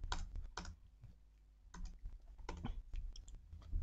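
Computer keyboard typing while coding, ending with a Ctrl+S save shortcut: bursts of crisp, close key clicks in short clusters with brief pauses between, alone without talk.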